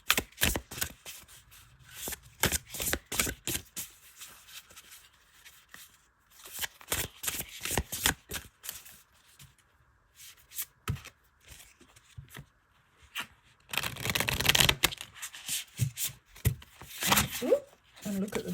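Oracle of the Witch oracle card deck being shuffled, with repeated bursts of crisp riffling card noise in rapid clusters, close and fairly loud, separated by short pauses.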